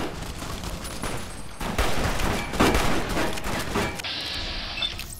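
Gunfire bursts in Fallout New Vegas, a dense fusillade of shots crackling steadily through the clip, loud and close, with game ambience and a brief tonal effect near the end.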